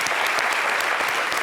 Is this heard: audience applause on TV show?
yes